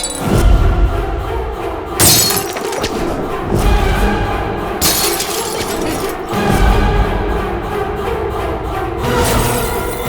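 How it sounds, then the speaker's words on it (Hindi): Repeated loud crashes of glass bottles breaking and shattering, several heavy impacts a few seconds apart, each followed by a rattling, tinkling spray of shards that fades before the next smash. "कांच की बोतलों का यही तो प्रॉब्लम है, टूट जाती हैं।"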